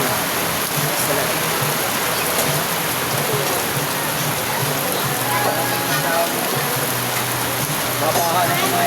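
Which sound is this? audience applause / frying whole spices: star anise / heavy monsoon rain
heavy monsoon rain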